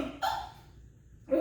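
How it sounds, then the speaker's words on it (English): A woman hiccups during a spicy ramen eating challenge: a single short, sharp vocal hiccup near the start, fairly close, followed by quiet and then a second brief vocal catch at the end. "She's already hiccuping."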